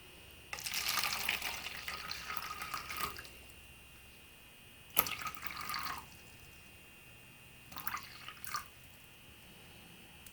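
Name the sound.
water pouring into vermiculite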